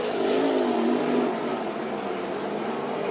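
RaceSaver sprint cars accelerating off turn 4 during a heat race at Eagle Raceway, a loud, steady engine roar that holds strong, then eases slightly as the cars pull away.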